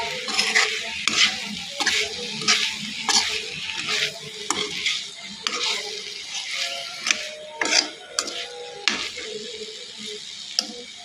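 Close-up stirring of a sizzling fish curry in a pan, spoon scraping in a steady, repeated rhythm over a soft frying hiss.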